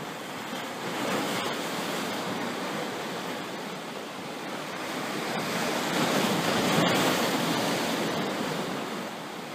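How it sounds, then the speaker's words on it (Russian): Steady rushing water with waves slapping and washing against a breakwater close by in Herzliya, Israel, a continuous broadband surge that swells and eases without pause. "И когда слышишь плеск воды за бортом, ух, захватывает дух."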